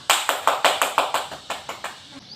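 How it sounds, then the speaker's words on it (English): A class gives a barangay clap during a Filipino lesson: about a dozen sharp, evenly spaced group claps in a quick steady rhythm, close and clear, with no talking. "Give yourself a barangay clap."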